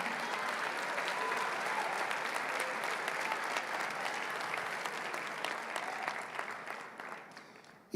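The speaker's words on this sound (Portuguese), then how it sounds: "Dá uma salva de palmas aí, irmão." A church congregation at a conference applauds, dense sustained clapping from many people that fills the room and fades slightly toward the end.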